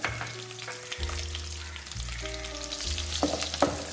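Chopped garlic cloves, about ten, frying in a pan for turkey berry thokku, giving a steady close sizzle with faint stirring, no talking.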